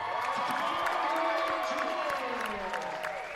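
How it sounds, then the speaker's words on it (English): Indoor soccer arena crowd clapping and cheering steadily for a dance performance by the Elite Jewels at a Rochester Lancers versus Harrisburg Heat game, a dense sustained wash of applause with tonal music or whoops riding over it. "Little performance on the field from the Elite Jewels. Nice round of applause."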